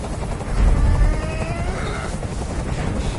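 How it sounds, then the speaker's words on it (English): Helicopter noise in a video game: a loud, steady rotor rumble and whooshing drone fills the whole stretch, with no speech over it. "I can't stand that noise anymore. Tell that helicopter to get out of here."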